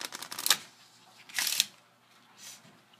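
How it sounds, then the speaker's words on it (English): Playing cards riffle-shuffled together for a red and black separation card trick, three quick crisp bursts with quiet gaps between, close and fairly soft, no talk. "You're just going to shuffle them together and then place them right there."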